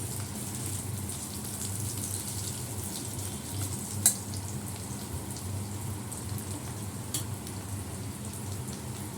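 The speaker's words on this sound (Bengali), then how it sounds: "কালো জিরা, আলু, শুকনো লঙ্কা ফোড়ন দিয়েছি।" Black cumin, potato and dried chili tempering sizzles in hot oil with a steady close crackle like light rain, and a single faint clink of a utensil partway through.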